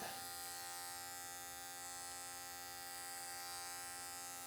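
Electric hair clippers running clipper over comb through hair for a Viking-style cut, a steady close mechanical buzz with a rich whine that holds evenly throughout.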